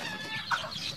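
Chickens that are being vaccinated against Newcastle disease with LaSota vaccine give a brief, nearby cluck over soft background farmyard noise.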